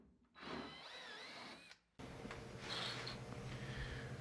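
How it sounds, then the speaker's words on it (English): Power drill whines twice, a short high spin-up followed by a longer, louder run with a grinding edge as it bores bolt holes into a Chevrolet C10 truck's cab floor. "So I'm drilling holes, putting new bolts in"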